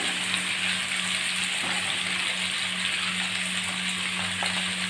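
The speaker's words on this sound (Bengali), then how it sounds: "আর একটু হলুদ আলু আর কাঁঠালের বীজটা মোটামুটি ভেজে নিয়েছি" Potatoes and jackfruit seeds frying in a pan with salt and turmeric give off a loud, steady, close sizzle that stays even throughout, with no talking.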